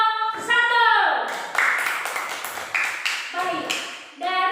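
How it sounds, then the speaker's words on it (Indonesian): A classroom of students applauds a group's presentation, a dense burst of clapping lasting several seconds, with children's voices and whistling tones at the start and end. "Ya, tepuk tangan untuk kelompok 1."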